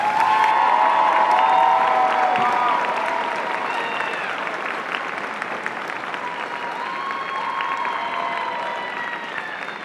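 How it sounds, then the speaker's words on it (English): A crowd at a college commencement applauds the graduating class of 2024, sustained loud clapping that fades slightly partway through and carries on under a few scattered cheers. "You can give them another round of applause."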